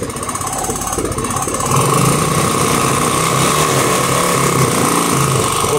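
A motorcycle engine idles roughly, then is revved and held at a higher, steady buzzing pitch, loud and close with no talking.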